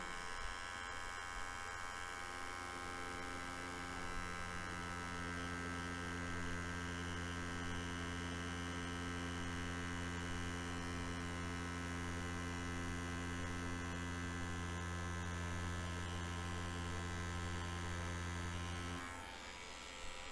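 A tattoo machine fitted with a thicker needle for bold lines runs in a steady electric hum and buzz for about nineteen seconds, then cuts off near the end, with no speech.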